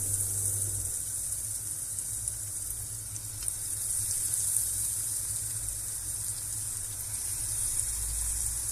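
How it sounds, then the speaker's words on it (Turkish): Steady, bright sizzling of zucchini frying in hot oil, constant and close, with a faint low hum underneath and no talking. "Bu şekilde bütün kabaklarımı kızartacağım."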